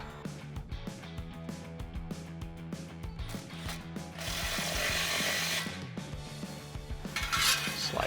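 A ratchet tightens the exhaust pipe clamp to the muffler on a 2011-2014 Ford F-150 5.0L V8 fitted with a Rough Country dual exhaust, producing quick metallic clicking strokes and then a longer rough grinding stretch.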